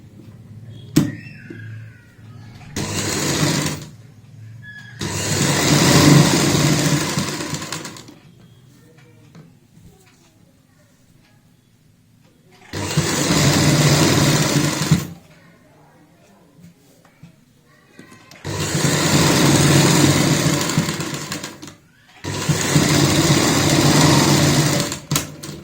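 A sewing machine stitches palazzo fabric and lace in four separate loud bursts of fast, rattling whir, with quieter pauses between them where handling and faint talk can be heard.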